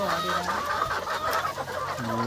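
Small native Bangladeshi village hens cluck and squawk agitatedly in quick repeated calls, close by and loud, with faint voices in the background.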